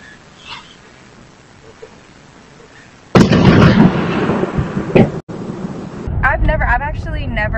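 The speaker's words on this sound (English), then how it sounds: "I've never heard lightning sound like that before in my entire life" A sudden, loud crack of thunder from a lightning strike bursts in after quiet, rumbling and rolling on for several seconds, with a second crash following.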